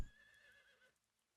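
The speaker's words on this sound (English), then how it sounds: "Now we have a wild horse" A wild horse in the video game Dawn of Man, set in the Northlands, gives a single short whinny lasting under a second, moderately loud and alone, then fades to near silence.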